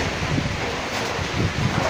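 Strong typhoon wind from Typhoon Paeng roars steadily with gusting surges, buffeting loudly and close with no let-up.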